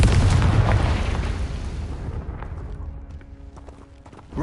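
Confringo blasting spell exploding in Hogwarts Legacy: a loud booming blast at the start that rolls and decays over a few seconds into quieter scattered game sounds.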